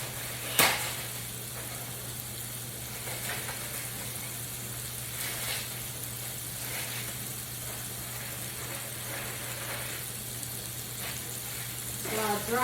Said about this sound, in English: My pot is boiling, it's ready for the pasta